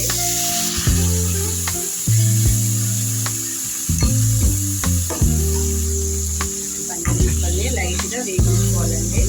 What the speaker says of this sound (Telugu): ఇదే ఆయిల్లో పన్నీర్ ముక్కలు వేగించుకుంటానండి